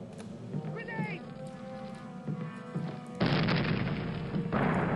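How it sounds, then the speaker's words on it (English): Grenade blast in the World War II shooter Call of Duty: United Offensive, a loud broadband boom bursting in over shouted voices and battle noise, then a sustained roar of debris and rumble as the talk continues. "Grenade."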